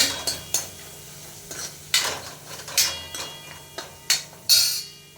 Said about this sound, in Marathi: सर्व मसाले एकत्र छान तेल सुटेपर्यंत आपल्याला परतून घ्यायचे आहे.